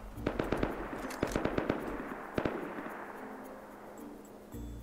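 Rapid bursts of gunfire in the survival video game Rust, a string of sharp close shots in quick clusters, then a few scattered cracks before the firing fades into background noise.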